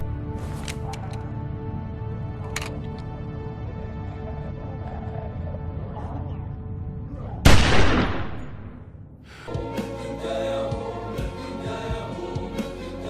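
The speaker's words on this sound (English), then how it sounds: "So Clem shoots Lee" A single loud gunshot in The Walking Dead video game, a sharp close blast with a decaying tail, set against a quiet, sustained game soundtrack.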